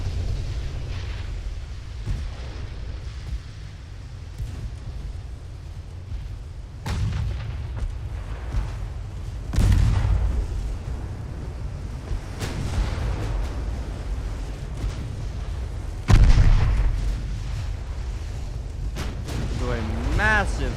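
Battleship guns in the naval game Ultimate Admiral: Dreadnoughts fire in several heavy booms spread across the stretch, with the loudest blasts near the middle and toward the end, over a constant low engine-like rumble.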